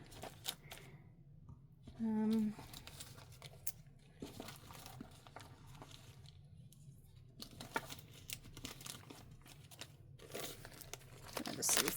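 Old Ziploc-style plastic bags being handled and crinkled up close, with irregular crackling rustles and short bursts, faint in places and mixed with a voice talking.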